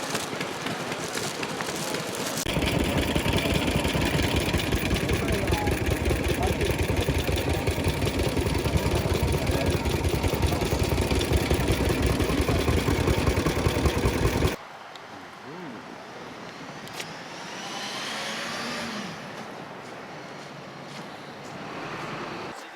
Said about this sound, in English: the cars are just going to start driving up and down the street